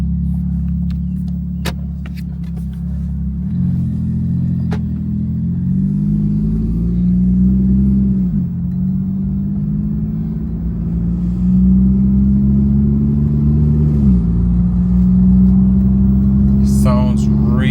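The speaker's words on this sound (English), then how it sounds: "God, good Alibaba exhaust. Good Alibaba exhaust. Sounds really, really good," A Porsche 911 fitted with a cheap $300 Alibaba aftermarket exhaust rumbles loudly and close at a deep, steady pitch that swells and dips in a few rev changes, with someone talking over it.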